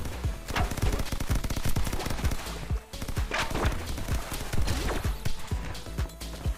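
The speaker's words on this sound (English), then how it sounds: "I'm able to have, like, two shots of shotgun out now" Repeated gunfire bursts in the roguelike video game Super Raft Boat Together, rapid loud shotgun blasts firing in a steady stream over busy game music and effects throughout.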